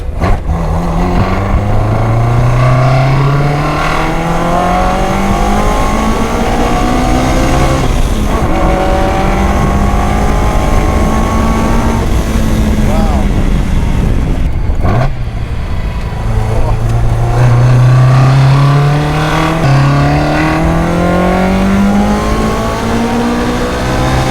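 A tuned 4A-GE-powered Toyota KP60 Starlet race car engine revs repeatedly, pitch climbing in long sweeps then dropping, with deep rumbling between pulls, close and continuous throughout.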